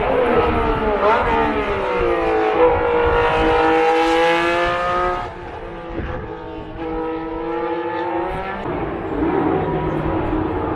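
A historic Formula 1 race car on a legends' demonstration lap at the Paul Ricard circuit, its high engine note rising and falling as it revs and shifts, loud and fairly close, passing by.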